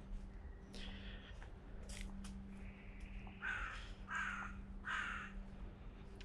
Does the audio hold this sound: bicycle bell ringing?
no